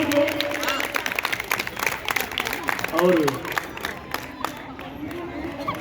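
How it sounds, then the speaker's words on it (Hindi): Audience clapping and crowd noise at a Holi gathering and comic poetry event in Noida, steady scattered applause with cheering under a speaker's voice. "तालियों से आनंदित कर दीजिए इसको, प्रांगण को।"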